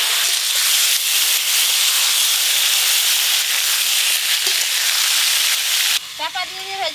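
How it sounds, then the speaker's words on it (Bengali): Pointed gourd (potol) frying in hot oil in a village-style kitchen gives a loud, steady, close sizzle and hiss for about six seconds, after which a voice speaks briefly. "গরম তেলে ছাড়, তেল অনেকক্ষণ গরম হয়ে গেছে। গরম হয়ে গেছে, হ্যাঁ, পটলগুলো ভালো করে ভেজে নেব।"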